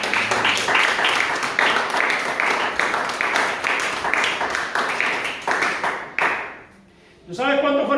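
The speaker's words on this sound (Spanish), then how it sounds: "Denle un aplauso al Señor por la promesa." A church congregation claps together in a dense, lively burst of applause that fades after about six seconds before a voice resumes.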